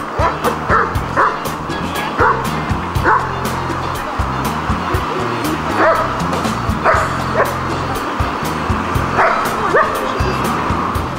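Several dogs bark and yip repeatedly in short irregular bursts over a continuous noisy background, apparently during dog-handler training, with occasional whimpers mixed in and no clear talk.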